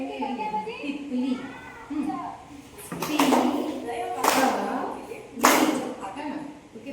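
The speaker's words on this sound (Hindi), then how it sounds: "फिर हर शब्द पर ताली मारते हुए वाक्य में आ रहे शब्द गिनकर दिखाए।" A voice and an adult's voice speak words while clapping once per syllable, three sharp claps interrupting the speech in turn.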